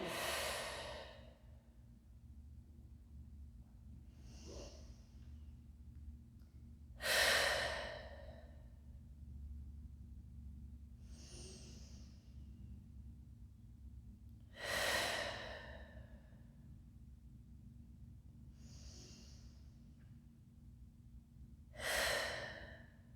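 Slow, deep breaths during a Pilates stretch in a class setting: four long breath cycles spaced about seven seconds apart, each a soft inhale swelling into a louder, airy exhale, close and alone over a low steady room hum.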